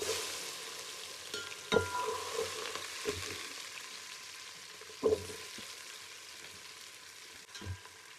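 Onions fry in hot oil with whole garam masala spices like cinnamon and cloves for a chicken biryani, a soft steady sizzle broken by a few louder stirring knocks and spatters, close but quiet.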